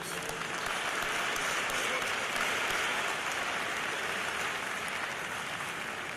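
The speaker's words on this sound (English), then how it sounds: "You need to give yourself a round of applause" Graduates applauding at a Lackawanna College commencement, a thick, continuous roar of clapping from a large crowd that holds steady and loud throughout, like heavy rain.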